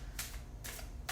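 A tarot card drawn from a deck during a reading makes three quick, soft riffling swipes of card stock, close and quiet, with no talking.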